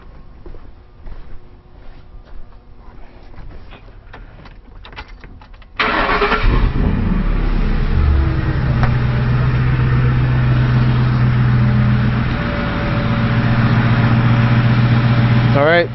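A car engine cranks and catches about a third of the way in, then settles into a steady, loud idle close by, with faint handling noises before the start.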